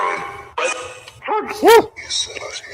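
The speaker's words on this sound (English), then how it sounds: "and a bark pretty clearly" A single dog bark sounds from a played-back recording, a short sharp burst in the middle, with someone talking before and after it and other muffled voices and noise around.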